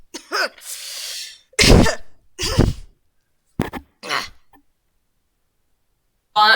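Several short, sharp coughs come in irregular bursts, close and fairly loud, separated by stretches of silence.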